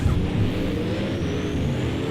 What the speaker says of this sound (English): Oh, those Esperantes sound beautiful.